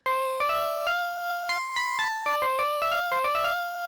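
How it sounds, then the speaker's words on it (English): A bright synth instrument plays a quick, bell-like melodic riff of short tonal notes, clean and alone, with no voices. "This is just an instrument I created using Sampler."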